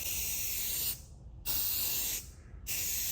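Spray paint going onto a Les Paul style guitar body in light coats makes loud, steady aerosol hissing in three bursts, each cut off by a short pause.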